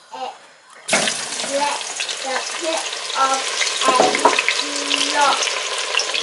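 Onions with ginger frying loudly in beef-flavoured oil for Ghana beef stew, a dense crackling sizzle that bursts in suddenly after a quiet moment and then holds steady, with light stirring scrapes and no talking.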